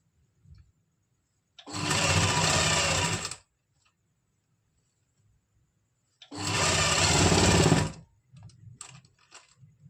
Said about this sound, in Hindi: यहाँ से हम इस साइड से भी सिलाई लगा लेंगे